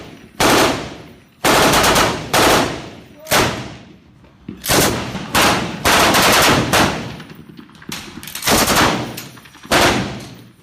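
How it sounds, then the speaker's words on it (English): Machine gun firing in repeated short bursts during joint Israeli and U.S. paratrooper training, loud close rattling volleys with brief gaps between them and a few voices in between. "they're running like 2 to 3 bursts every time, so let's just keep that up."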